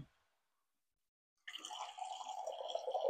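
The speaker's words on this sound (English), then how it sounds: "I'm adding half of a cup of water to the black beans" About half a cup of water poured into drained, rinsed canned black beans: silence at first, then a sudden close, splashy stream that keeps running to the end.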